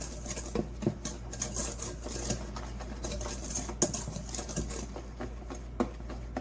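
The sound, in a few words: whisking flour, sugar and baking powder in a bowl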